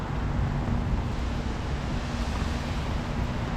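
Strong wind buffets the microphone outdoors in Canada, a continuous dense roaring rush with no break, loud and close, with no voices over it.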